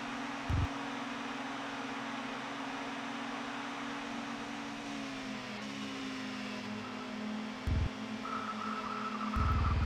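A Peugeot 306 race car in the ToCA World Touring Cars video game drones steadily at high revs. Its pitch dips slightly midway, with a few brief bursts of harsher engine noise cutting in.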